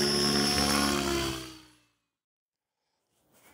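A model helicopter's tail rotor whines at high speed, a loud, tonal buzz that winds down and fades to silence, followed by a faint clatter.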